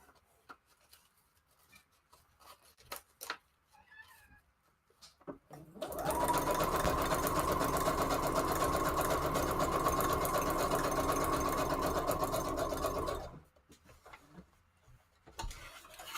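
A sewing machine runs steadily for about seven seconds, stitching lace onto a paper junk journal page, with quiet handling noises before and after the continuous mechanical whir.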